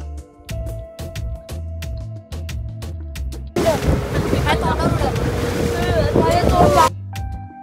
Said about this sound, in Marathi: समुद्राच्या लाटा बोटीला अशा काही आपटत होत्या